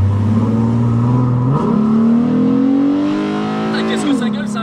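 A tuned Ford Mustang engine revs hard and loud, pitch climbing in steps as it accelerates, with a throaty roar filling the whole stretch.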